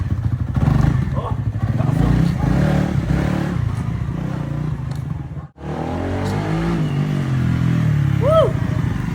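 A new keyless Suzuki motorcycle runs loud and close, its engine droning and revving as it rides, with a brief dip midway and a voice talking over it.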